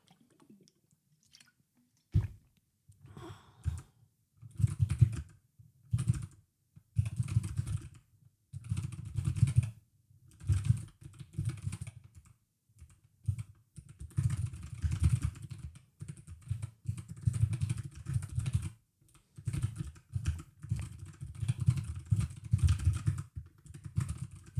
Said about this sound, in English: What can I type?